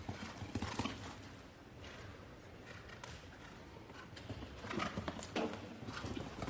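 A nine-year-old stallion's hooves clip-clop faintly and at a distance on a show-jumping course at the Los Angeles Masters Grand Prix, mixed into a broad crowd and arena murmur.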